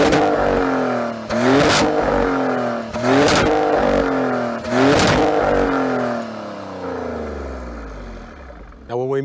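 2025 Maserati Grecale Trofeo engine revved hard in Corsa mode, with four loud, rising bursts that each fall away. A steadier, quieter engine note follows, and the clip ends on one short blip.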